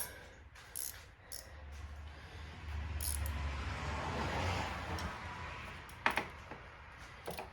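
A ratchet loosening an alternator bolt on a Dodge Grand Caravan with a 3.6L engine gives faint mechanical clicking over a low hum, with a few sharper metallic ticks near the end.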